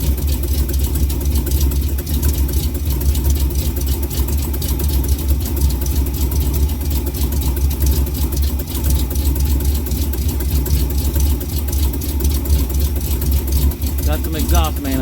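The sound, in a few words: 1974 Gran Torino Elite engine idling with exhaust manifold leak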